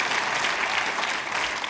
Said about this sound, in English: Top that up with a round of applause